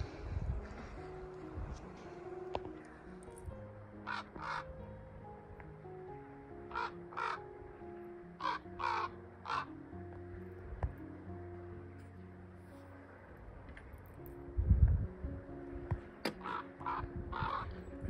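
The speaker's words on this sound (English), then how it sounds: "Wow, it's a big raven" A large raven calls repeatedly from a snowy Norwegian fjord in winter, its harsh caws coming in scattered bursts at moderate distance over low wind and background rumble.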